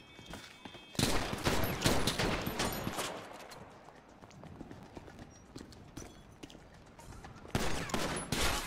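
Bursts of gunfire in a game, loud rapid volleys in the opening seconds that ease into a busier, softer stretch of shots, then a second loud burst near the end, with no talk over it.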